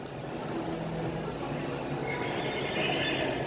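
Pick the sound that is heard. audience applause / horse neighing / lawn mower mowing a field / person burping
horse neighing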